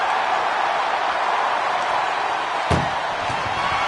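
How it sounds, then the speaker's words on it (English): A single heavy slam as an ambulance door is shut in the WWE2K24 wrestling game, a sharp thud near the end over a steady crowd roar. "Doing their best just to shut that first door"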